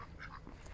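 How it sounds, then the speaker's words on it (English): Several ducks, one of them white, quacking in a short, faint burst of a few nasal calls outdoors, with no talk. "Right here we got some ducks right here."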